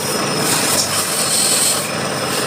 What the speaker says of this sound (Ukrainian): Торцанув зацентрував та точу зараз по наружі вже під привод.